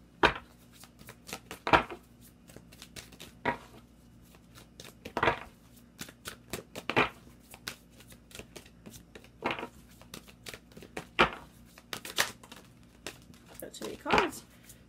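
Tarot cards shuffled by hand in bursts of crisp riffles and slaps, fairly close, with a low background hum and no talk over them.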